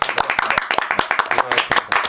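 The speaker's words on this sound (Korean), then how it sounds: "자 우리 박수 한번 치고 고생하셨습니다" Applause from a small studio group of news program hosts, a dense run of close, sharp handclaps lasting a couple of seconds with voices murmuring underneath.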